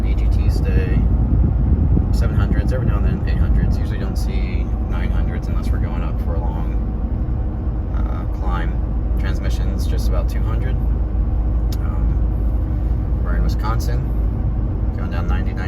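Steady cab drone and road roar from a Ford F350 pickup towing a travel trailer at about 65 mph on the highway, loud and unbroken throughout while someone talks over it.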